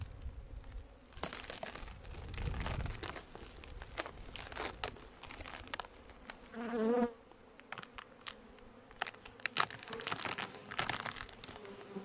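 Honeybees buzzing close up in an opened hive during winter feeding, a continuous droning hum with occasional crinkling and rustling handling noises.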